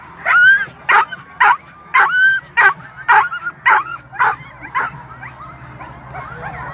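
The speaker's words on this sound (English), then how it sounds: "Very excited lead dog there." An eager lead sled dog at the start of the Knik 100 sled dog race in Alaska lets out a rapid run of about a dozen close, loud yips and barks, tapering off over a low background hum.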